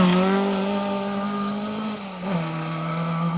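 A Ford Escort Mark 1 rally car in the C2 class roars past close by with a loud, steady engine note whose pitch drops partway through as it goes by, with no voices.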